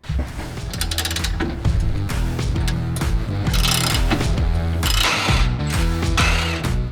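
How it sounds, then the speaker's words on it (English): A ratchet with an 18mm socket backs out bolts while a Lobo Off-Road aluminum skid plate is fitted to a 2021+ Ford Bronco, giving steady, close mechanical clicking for the whole stretch with no talking. "we're going to go ahead and remove these two bolts using an 18mm socket"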